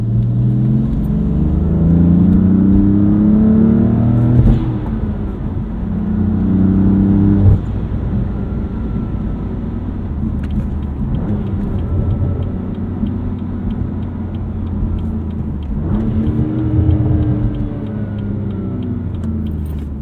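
A 2016 BMW M3 engine heard from inside the cabin, a loud steady drone that climbs in pitch through several gears, with brief dips at each shift and no talking.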